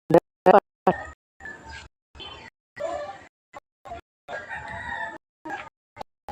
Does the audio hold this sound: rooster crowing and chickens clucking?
yes